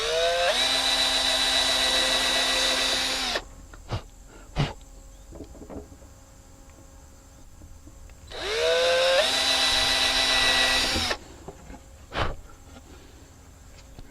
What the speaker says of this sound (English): And I'm just going to use my 1/8 inch drill.